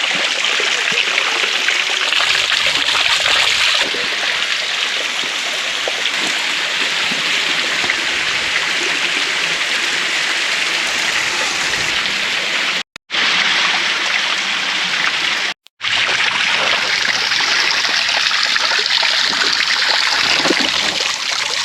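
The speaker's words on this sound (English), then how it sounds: "Not too far from my campground was this really nice waterfall." A small waterfall in dry Southern California backcountry near a campground, still dripping after months without rain; a steady, close trickle and patter of falling water runs continuously with no talking.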